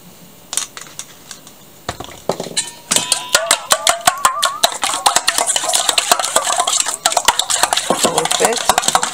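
Whisking in a bowl, likely eggs seasoned with paprika for oven-baked broccoli, a few scattered clinks that build into rapid, loud, rhythmic metallic tapping against the bowl, close and continuous to the end.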